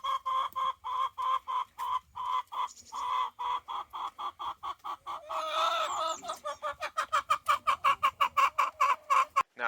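A backyard flock of chickens clucks and squabbles at close range, a steady run of sharp repeated clucks that quickens into a rapid rhythmic burst near the end, with a brief louder squawking flurry in the middle.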